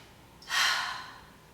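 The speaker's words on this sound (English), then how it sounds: "So you'll inhale through the nose 3 times, exhale through the mouth once." One sharp, airy breath rises quickly, holds briefly, then fades, with no talking, during a yoga breathing exercise of three nasal inhales and one mouth exhale.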